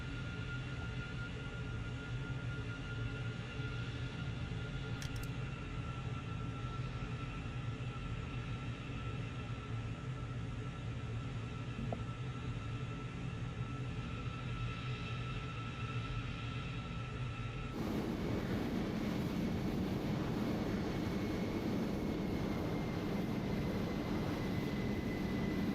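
Antonov An-225 Mriya jet engines in Microsoft Flight Simulator 2020 produce a steady, loud, droning roar with an even hum throughout, shifting partway through to a broader, rougher rush of engine noise.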